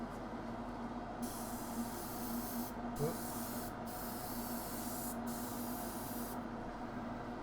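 An airbrush hisses steadily while spraying paint on a Knight Armiger miniature, a soft continuous airy spray with several brief pauses, faint and close, with no talk.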